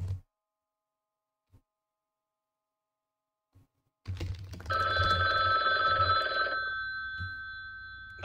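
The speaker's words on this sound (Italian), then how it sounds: "Non vogliamo sentire i tuoi telefoni." A telephone bell rings loudly and steadily for a couple of seconds after near silence and a few faint knocks, then a lingering electronic tone continues.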